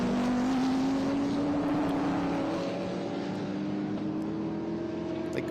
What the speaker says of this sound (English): you can hear by the sound that these cars make a ton of power